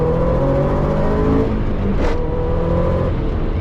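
A 1994 Subaru STI engine hums steadily at close range, with a brief rising whoosh midway, heard from inside the car.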